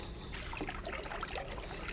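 A saree dropped into a bucket of water, giving soft continuous sloshing and trickling with small splashes, close and low in level.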